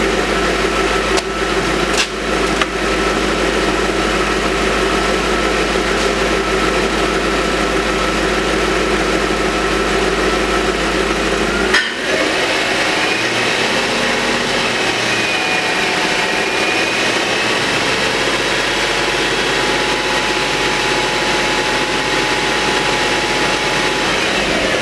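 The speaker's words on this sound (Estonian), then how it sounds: "Ma panen auto käima ja siis mõdan õlirõhu üle." An Audi S8 with a 265 kW engine idles steadily and close by after being started, a constant low hum with a brief change in tone partway through. There is no speech.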